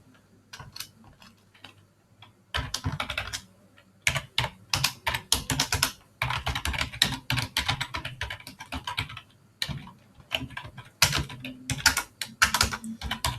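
Close, crisp clicks of a computer keyboard as someone types code on an Ubuntu machine, coming in quick irregular bursts separated by brief pauses, with no speech.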